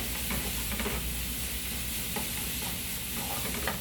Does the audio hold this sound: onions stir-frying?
yes